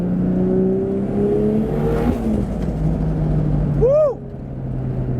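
A Nissan S15 Silvia with a G42 turbo 2JZ engine revs hard, loud and close, its tone rising and falling through sustained throttle before a sharp blip near the end as the turbo spools and the revs drop back to a steady drone.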